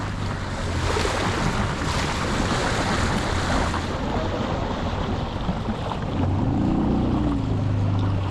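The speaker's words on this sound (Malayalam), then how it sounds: "ഭയങ്കര കട്ടിക്ക് വെള്ളം ഒഴുകുന്നേ" Loud, rushing water from a fast-flowing river churns steadily around a motorboat, with gusting wind buffeting the microphone and a low boat-motor drone underneath, strongest toward the end.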